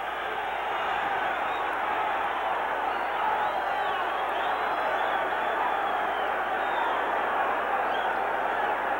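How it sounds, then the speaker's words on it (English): Boxing crowd at a professional bout roars steadily and continuously after a flurry of punches drives a fighter into the ropes, a dense, sustained wash of cheering with no break. "now Tapia bangs Martinez back into the ropes, and that brings the crowd alive"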